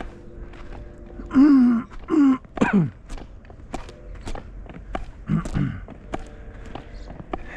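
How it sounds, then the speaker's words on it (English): Several gruff throat-clearing rasps come in quick bursts, close to the listener, during a walk outdoors on a snowy, icy day in Gainesville, Texas, separated by quiet pauses and a few soft knocks or steps. "forgive me for clearing my throat"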